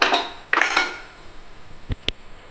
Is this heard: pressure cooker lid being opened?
yes